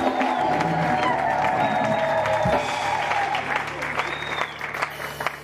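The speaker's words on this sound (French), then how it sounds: "Acclamation forcée" Church congregation at a praise and worship service applauding and cheering, a broad crowd roar of clapping with scattered whoops that gradually thins toward the end.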